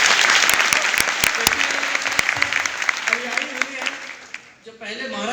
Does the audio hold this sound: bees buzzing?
no